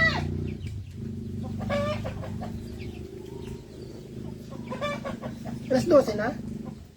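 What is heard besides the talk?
chickens clucking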